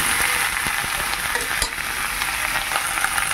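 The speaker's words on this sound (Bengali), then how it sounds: "এবার একটু ভালো করে নাড়াচাড়া করে নিলাম।" Fish-head and Malabar spinach curry being stirred as it fries: a loud, steady sizzle fills the pan, with a few soft scrapes of the spoon. No voices.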